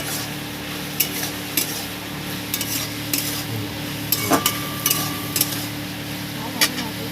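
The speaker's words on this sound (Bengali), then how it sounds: "প্রথম দিয়ে দিলাম পেঁয়াজটা, দিয়ে একটু নাড়িয়ে নেব।" Chopped onion sizzles softly in a pan as a spatula stirs it, giving scattered scrapes and light taps over a constant low hum, with no speech.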